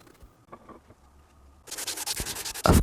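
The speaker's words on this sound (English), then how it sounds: "Of course, I did the obligatory sanding." Glued-together pallet wood for a table being sanded, starting partway through as a steady broadband rasping rub, close and fairly loud, preceded by quiet handling noise.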